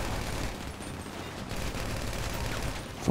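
Gunfire in GTA Online, a dense, continuous crackle of shots over a rumbling noisy background, steady and loud throughout.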